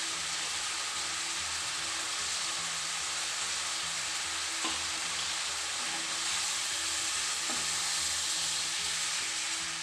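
Crushed ginger and garlic fry in a pan for chicken sukka, a dense, steady sizzle crackling without pause, with a couple of faint clinks from stirring.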